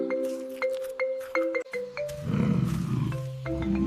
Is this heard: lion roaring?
yes